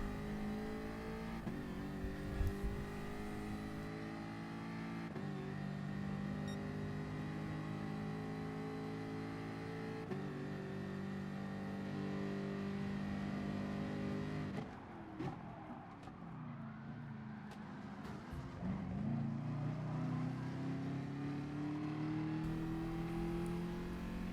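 Race cars in a racing video game pushing into the first turn, a sustained layered engine roar with shifting pitches, a brief drop and rough lurch midway, then rising revs as they accelerate away.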